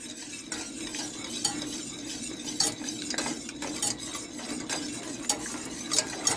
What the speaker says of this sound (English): so we want to keep stirring.